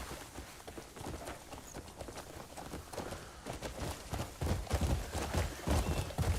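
Horse hooves gallop in the video game Crimson Desert with a rapid, steady clip-clop of footfalls, moderately loud over outdoor ambience.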